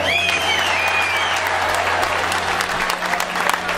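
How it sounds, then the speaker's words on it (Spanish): Outdoor crowd applause at a Latin music block party street naming, loud continuous clapping with whistles and cheers rising over a steady low hum. "Un aplauso."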